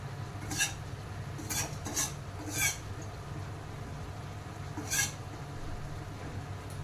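A spoon scrapes and knocks in a cooking pot holding fish head and ash gourd for chalkumra ghonta, several brief metallic stirring strokes spaced over a constant low background hum.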